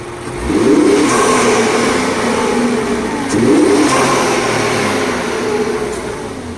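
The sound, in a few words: Infiniti Q50 3.7L engine revving with blow-off valve mod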